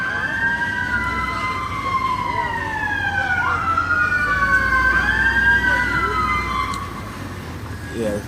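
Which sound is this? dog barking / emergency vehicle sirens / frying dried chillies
emergency vehicle sirens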